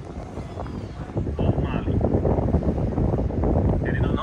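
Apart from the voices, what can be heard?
wind blowing at a seaside apartment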